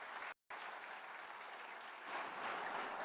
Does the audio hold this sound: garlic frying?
no